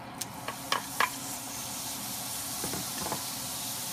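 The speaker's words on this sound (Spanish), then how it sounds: "Vamos a poner primero la cebolla blanca." White onion sautéing in hot oil over medium heat, a steady close sizzle with a few sharp clicks and scrapes of stirring early on and near the end.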